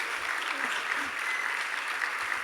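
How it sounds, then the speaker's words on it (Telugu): An audience at an early-morning devotion session of a summer retreat gives sustained applause: dense, continuous clapping from many hands at an even level throughout the short burst. "박수 쳐주셔도 돼요"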